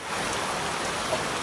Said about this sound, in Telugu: ఘోరం వర్షం